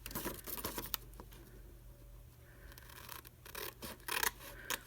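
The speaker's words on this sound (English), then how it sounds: "normally what I do is I just cut off these triangles" Scissors snipping off small triangle corners of folded paper in a nesting craft project, a run of close, crisp cuts and light rustling of paper, with no talk.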